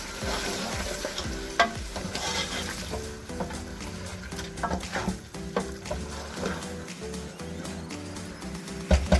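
Tomato paste is stirred into frying masala for beef paya, giving a busy sizzle with repeated spoon scrapes and knocks against the pot, close and fairly loud, with no talking.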